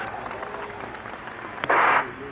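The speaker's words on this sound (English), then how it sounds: "An extremely loud applause here in Mission Control." Flight controllers in Apollo 13 Mission Control applauding as the spacecraft returns, a faint, steady patter of clapping that ends in a sudden short loud burst.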